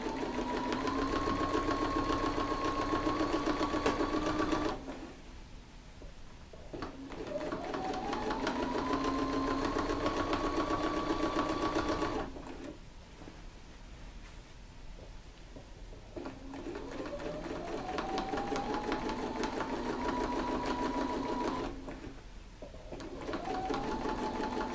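A sewing machine with a walking foot stitches in the ditch of a quilt, running loud and steady in three long bursts whose whine rises at each start, with short quiet pauses between.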